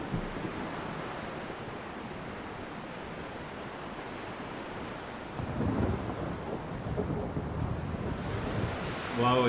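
Rumbling thunder with a steady wash of rain and wind from a lightning storm in the Halo 2 game-based movie, a continuous roar that swells louder in the second half with no voices.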